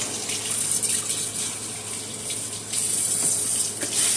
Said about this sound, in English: Rinse off real good with cold water.